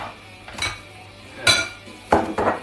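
Chopped king oyster mushrooms are tipped into a bowl, giving three separate clattering knocks and clinks of kitchenware spaced across a quiet room, close and fairly loud, with no talking.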